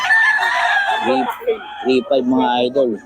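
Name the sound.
young rooster (stag) crowing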